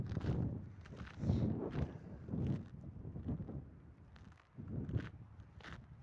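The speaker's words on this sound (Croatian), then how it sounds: "Jako, jako vjetrovito." Strong wind gusts roar and buffet the microphone in uneven low rumbles on a mountain summit below freezing, rising and falling with short lulls between blasts.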